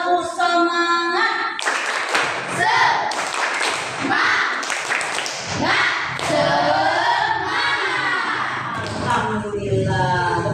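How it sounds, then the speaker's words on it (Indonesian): Schoolchildren in a classroom perform a rhythmic group clapping chant, a series of loud claps and thumps mixed with many young voices calling out together, close and energetic. "Kita lakukan tepuk semangatnya ya sayang ya. Yuk, 1, 2, 3, tepuk semangat."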